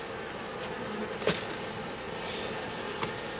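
Honeybees buzzing steadily around a hive while a bee package is installed, a continuous dense drone near the listener with a few brief louder passes.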